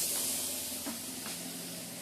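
Pointed gourd (potol) fries in a pan with a soft, steady hiss and a faint spit or two over the short stretch, quiet and close.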